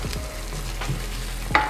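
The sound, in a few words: stirring shakshuka in a pan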